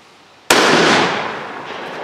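A Stoeger Coach Gun shotgun fires a single loud, sharp blast. It comes abruptly after a quiet moment and rings out in a long, fading decay.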